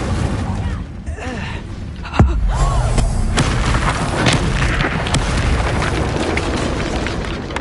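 Spell blasts in Hogwarts Legacy erupt in a loud booming burst followed by sustained rumbling, crackling explosions and debris across several seconds, up close, with voices calling out under the din.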